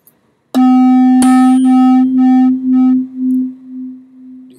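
Two slightly detuned tones are struck together and ring with a steady pure pitch. Their loudness swells and dips in a slow, regular beating pulse that grows more pronounced as the sound decays.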